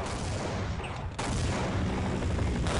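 Rapid gunfire in the video game Half-Life, a dense barrage of shots heard close and continuous with a short break near the middle.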